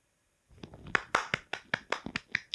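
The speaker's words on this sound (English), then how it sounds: "This isn't sarcastic clapping" A single person claps hands in a steady rhythm, about nine crisp, close claps in quick succession following a moment of silence.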